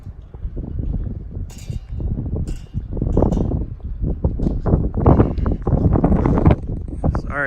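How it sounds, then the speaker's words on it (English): Gusty outdoor wind buffets the microphone on a university campus near a stadium, a loud, continuous low rumble that swells and dips over several seconds, with faint voices mixed into the roar. "Sorry if it's really windy and the noise is bad."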